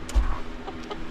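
A contented backyard hen clucks softly in a brief, close burst, a low throaty sound that rises once and then settles into quieter murmurs.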